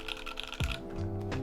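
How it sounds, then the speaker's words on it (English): Keystrokes on an Input Club Whitefox mechanical keyboard fitted with Switch Couture SOHO switches, a quick close-up burst of clicky taps over a low background hum. "Alright, let's do a typing test. Let's see how this sounds."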